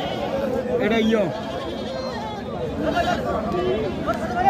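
Male Haryana goat bleating at a livestock market, a few wavering calls heard close under overlapping chatter and talk from people nearby.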